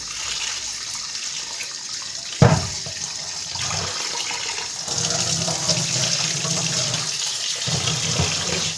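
Lentils being washed in a bowl of water, with continuous sloshing and running water, one loud knock partway through, and heavier splashing later on.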